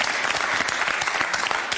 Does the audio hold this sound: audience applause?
yes